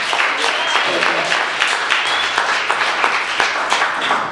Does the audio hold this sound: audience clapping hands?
yes